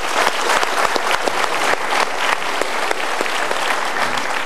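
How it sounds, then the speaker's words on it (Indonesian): A studio audience at a motivational talk show claps vigorously, with crisp individual claps standing out over a continuous, loud wash of applause. "berikan tepuk tangan yuk"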